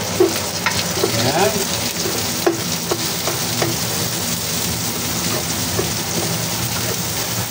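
Onion sautéing in a pan with garlic and ginger gives a steady, rain-like sizzle, with light scrapes and taps of a spatula scattered throughout and a single brief word spoken early on.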